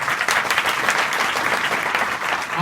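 An audience of schoolgirls at an adolescent education program claps steadily and fairly loudly, a dense patter of hands with no speech over it.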